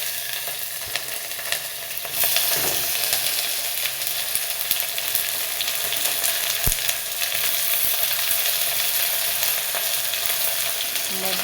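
Onions frying in hot oil in a pan, a loud, continuous crackling sizzle that swells after the first couple of seconds and holds steady, with one brief knock partway through.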